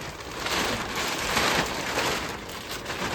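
Steady light rain patters continuously, a soft even hiss of drizzle with fine drops tapping a surface throughout.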